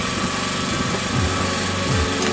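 A portable generator running to supply light and heat for volunteers at a frontline camp in the ATO zone in eastern Ukraine: a loud, steady engine drone with a constant buzzing hum, close by and uninterrupted.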